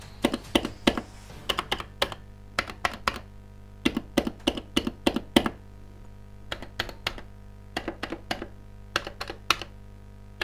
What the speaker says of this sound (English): the top middle buttons on both players have a different sound when pressed